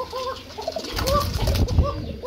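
Domestic pigeons coo in repeated soft, throaty warbles close by, several calls overlapping, with light rustling and wing flutter from the flock and no voices.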